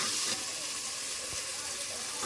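Tomatoes frying with salt in a pan, a steady bright hiss and sizzle throughout with occasional soft stirring sounds.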